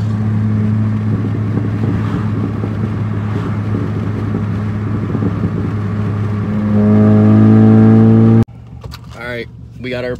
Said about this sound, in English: if you guys want to hear the backfire real quick